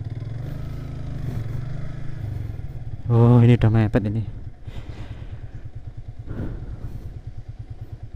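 A motorcycle engine idles and revs on a rough, steep dirt track heading to Nglarap beach in Tulungagung, with a loud throttle burst midway, then a lower putter, while someone talks over it.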